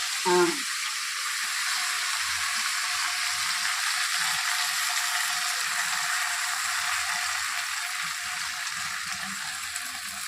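Dried gongura leaves dropped into a hot pan for Andhra gongura pickle, giving a brief rustle then a steady, close sizzling and frying hiss that carries on throughout.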